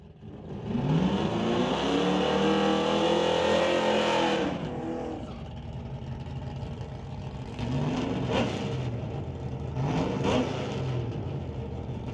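Drag race cars, a Dodge Dart and a Ford Mustang Fox Body, rev their engines hard at a racetrack. A loud sustained roar climbs in pitch, then drops to a rough idle broken by two shorter throttle blips.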